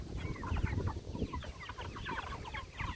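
Meat chickens forage and peck at fresh grass nearby, giving a busy stream of soft clucks and murmuring calls over low rustling, fairly quiet and continuous.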